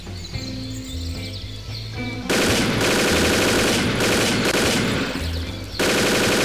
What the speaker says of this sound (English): Stoner 63 machine gun.